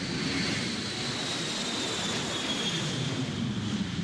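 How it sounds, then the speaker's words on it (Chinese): A passing airplane overhead beneath a flight path, heard from indoors by a window after a typhoon, a steady, fairly faint jet roar that holds throughout without voices. "忽然听到了飞机飞过的声音"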